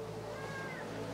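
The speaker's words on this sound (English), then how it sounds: "Meowing cat." A cat gives a single faint, drawn-out meow over a low background hum.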